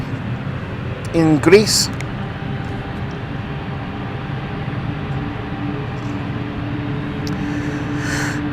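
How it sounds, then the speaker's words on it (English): A passenger jet departs London City Airport as a steady, distant engine roar under continuous live commentary, with a brief louder rising whine near the start. "Now we have the Buenos Aires flight heading out"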